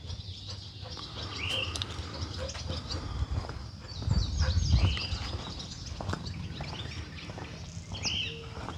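A bird calls from near its nest in a rural setting, a series of short, scattered chirps and tweets over a low background rumble, moderately loud and unaccompanied by voices.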